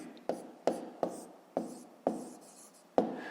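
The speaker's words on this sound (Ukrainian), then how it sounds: "Пишемо тоді." Handwriting on paper during a fifth-grade maths exercise: six short, sharp strokes spaced about half a second apart, each trailing into a soft scratch, close and quiet with no talk.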